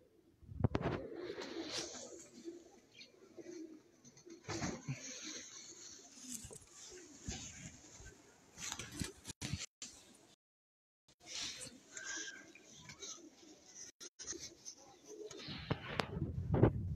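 Tournament flying pigeons on a rooftop coo in low murmurs amid scattered clatter and rustling, with bursts of noise coming and going and a brief quiet gap.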